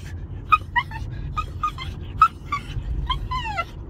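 A poodle inside a car gives a run of short, high whimpers and yips, about a dozen quick cries in an uneven rhythm, close and moderately loud over a low road rumble.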